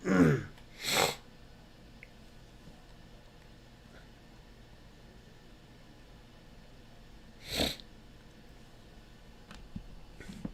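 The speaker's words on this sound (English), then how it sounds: "God, I can't wait for allergy season to be over, dude. Sick of sniffling nonstop." A person with allergies gives three sharp, forceful sniffles, two close together at the start and one several seconds later, over a faint steady room hum.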